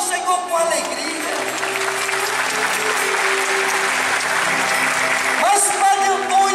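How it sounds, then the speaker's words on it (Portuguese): A church congregation at a Sunday family Mass breaks into sustained applause, with music and a voice carrying underneath the clapping. "Quem crê nisso, aplauda o Senhor com alegria."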